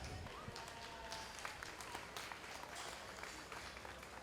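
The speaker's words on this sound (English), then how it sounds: "Let's give these exhibitors a big round of applause." Applause rises from the crowd at a 4-H and FFA market lamb show at the Lawrence County Fair, a dense, steady patter of clapping filling the arena from start to finish.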